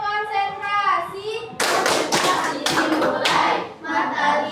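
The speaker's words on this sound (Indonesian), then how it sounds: "Tepuk konsentrasi" Children in a fifth-grade elementary classroom at SDN 45 Mataram perform a concentration clap: a child's sung chant first, then bursts of loud, crisp group clapping in quick patterned beats, followed by more young voices.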